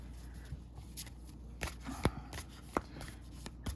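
A Moody Tarot card deck is shuffled by hand in soft, riffling bursts, with intermittent sharp card snaps and clicks over a quiet background.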